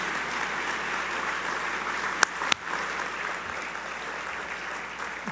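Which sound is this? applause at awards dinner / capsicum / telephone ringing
applause at awards dinner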